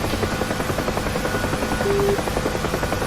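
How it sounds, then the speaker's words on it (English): UH-1 Huey helicopter in flight in the DCS combat flight simulator, a steady, loud rotor thump with dense engine and turbine roar filling the whole clip, close and continuous with no voices. "a lot of police departments that use the UH-1 as their helicopter of choice"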